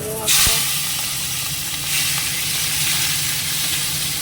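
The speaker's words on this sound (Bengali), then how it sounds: "একটু ভেজে নিই হালকা কিছুটা ভাজা হয়ে গেছে" Prawns frying lightly in a pan, a loud close sizzle that bursts in with a sharp hiss as they hit the oil, then settles into a steady spitting fry.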